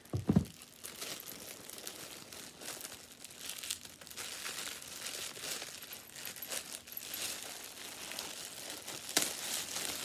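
Crinkling and tearing of tape and packaging, close and continuous, with sharper rips near the start and end.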